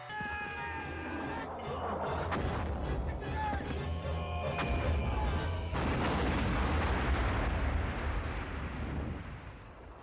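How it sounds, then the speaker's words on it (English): Booming movie explosions with rocket-launcher blasts tear apart Jason in a Friday the 13th film, a dense, loud rumbling barrage that swells midway and stays continuous under speech, with the roar decaying toward the end. "blown to pieces with a freaking rocket launcher"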